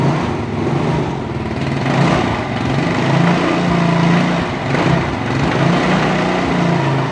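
A used motorbike engine idles smoothly after warming up, holding a steady, even rumble close by for the whole stretch with no voices over it.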